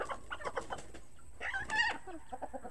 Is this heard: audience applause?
no